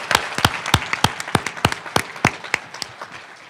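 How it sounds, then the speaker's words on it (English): Scattered, fairly sparse claps from an awards ceremony audience, individual hand claps distinct and irregular, a small crowd clapping for an honoree rather than a dense ovation. "Give her a round of applause."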